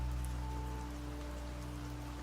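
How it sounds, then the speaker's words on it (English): Rain patters steadily against the window glass of an old cottage, a soft, even wash with a low hum underneath. "the rain comes on harder against the glass"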